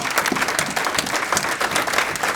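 A church congregation applauding together, a dense, steady burst of many hands clapping at close range with no talking over it.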